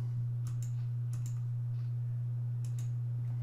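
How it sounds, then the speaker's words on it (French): A computer keyboard's delete key is pressed a few times while editing an image in Photoshop, giving sharp, close clicks in small clusters over a steady low electrical hum, with no talking. "Et touche supre du clavier."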